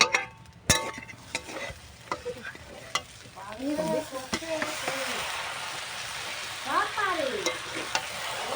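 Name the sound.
stirring chowmein frying in a pan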